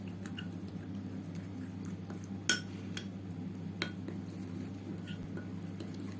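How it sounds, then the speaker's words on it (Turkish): A homemade face mask with lemon juice and rice flour is stirred in a bowl: quiet, soft scraping with occasional sharp clinks of a spoon against the bowl, over a low steady hum. "Ve tüm malzemeyi iyice karıştırıyorum."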